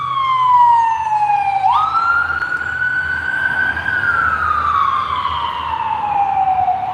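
Emergency vehicle siren on a busy city street at night, a loud close wailing tone sweeping up and down continuously, with low traffic rumble beneath.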